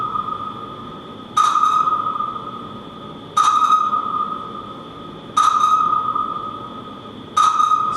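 Sonar-like echolocation pings repeat about every two seconds over a steady tonal hum, each a sharp bright burst with a short trailing decay, the paired returns drawing closer together.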